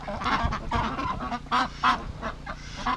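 A flock of ducks quacks and honks close by, calls overlapping in a noisy, continuous chatter.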